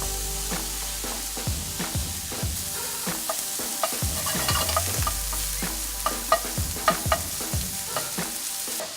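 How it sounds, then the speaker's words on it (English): Bacon slices sizzle steadily in a preheated pan over slightly lowered heat, a dense close crackle with scattered louder pops and scraping stirs toward the end, no voices. "Bacon goes right in."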